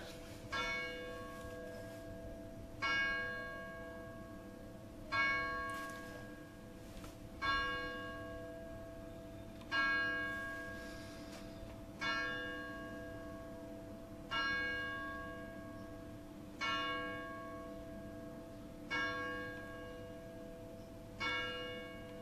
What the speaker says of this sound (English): bells going off, telling me it's 11 o'clock.